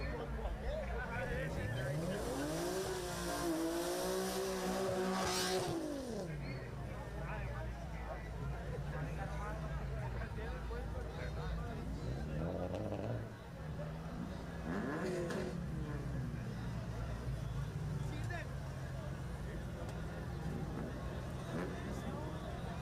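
Drag racing cars roar and rev at the Yellow Belly race track, engines rising in pitch and sweeping past, with a steady crowd murmur and nearby voices talking over the track noise.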